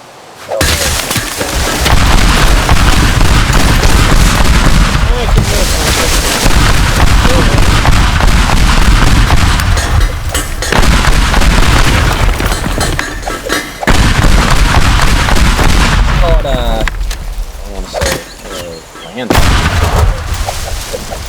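Bombs detonate in the destruction game Teardown as a dense, loud, near-continuous barrage of booms and blasts that barely lets up. A voice talks intermittently under the explosions.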